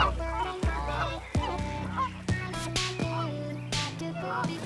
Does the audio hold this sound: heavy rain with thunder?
no